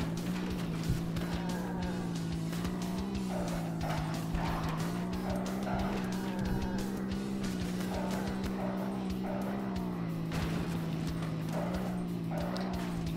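Upgraded car engine in the zombie-driving game Earn to Die 2, a steady loud droning hum that wavers slightly in pitch, with rapid clattering game effects layered on top throughout, no talking.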